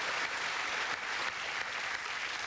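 A comedy show audience gives a steady, even wash of applause for a young comedian, heard from some distance and continuing without a break.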